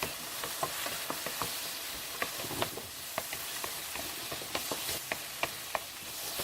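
Yam pieces stir-fried in a pan with soy sauce seasoning, a steady broadband sizzle with repeated sharp clicks and scrapes of a utensil stirring at irregular intervals, close and moderately loud, no voices.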